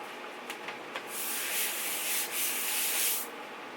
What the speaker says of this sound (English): These are the vent holes right here. So, and you just give it a little brush, like so.